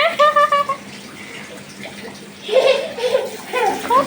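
Tap water running into a sink while cut meat is washed in a home kitchen, heard as close gushing splashes in bursts, with someone talking over it.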